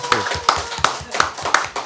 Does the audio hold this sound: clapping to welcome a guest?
yes